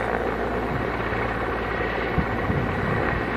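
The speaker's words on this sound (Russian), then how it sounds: "Вертолет летит, летит." A helicopter carrying a container flies over the Mir open-pit diamond mine, producing a steady, heavy rotor drone mixed with wind rumble that persists throughout.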